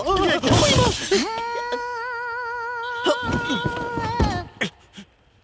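A new television is dropped and its screen shatters: a loud, crunching crash of breaking glass at the start, followed by a sustained whining tone, voices and a few softer knocks before the sound fades out.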